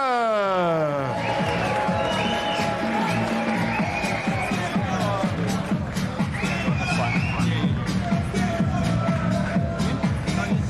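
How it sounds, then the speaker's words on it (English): A packed Leeds boxing arena roars and cheers steadily through Josh Warrington's ring walk, a dense wall of crowd noise with music-like tones and a commentator speaking over it. "the adoring public are here to cheer him on"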